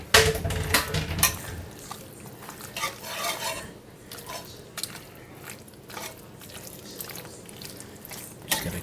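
Boiled rigatoni stirred into a cheesy Parmesan sauce in a pan alongside Cajun steak tips, a spoon scraping and clattering against the pan amid wet, sticky squelches, close and continuous.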